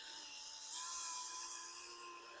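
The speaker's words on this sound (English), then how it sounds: "And now I can start increasing the speed of the drill just a little bit" A faint, steady high whir of a spinning drill with a polishing pad on a car headlight, soft rubbing texture, the pitch rising slightly as the speed picks up.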